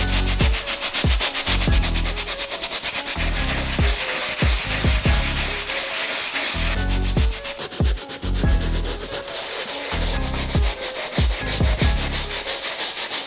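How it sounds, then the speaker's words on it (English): A soft brush dipped in cleaning solution scrubbing the uppers of Yeezy 350 V2 Cream White sneakers, continuous close rasping strokes in a quick back-and-forth rhythm, loud and steady. "Go ahead and dip it a little bit in your solution, and then just start scrubbing."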